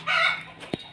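A rooster crows in a backyard chicken coop, one short, close call followed by a soft cluck.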